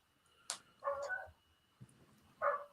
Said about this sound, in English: Our neighbor's dog is outside again. I can hear him bark.